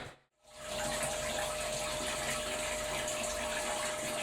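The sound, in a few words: sparge water draining through grain in home brewing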